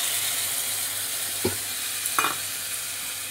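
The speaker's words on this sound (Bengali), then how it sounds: "এবার আমি মশলাটা গুলে রেখেছিলাম, সেই মশলাগুলো সব দিয়ে দিচ্ছি।" Mixed spice paste tipped into vegetables already frying in a pan, a steady close sizzle with two brief clinks of a utensil against the pan, no talking.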